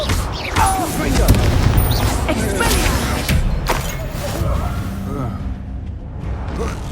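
Confringo fire spell blasts in Hogwarts Legacy, with several booming bursts and whooshes amid chaotic combat noise, while a voice calls out over the action.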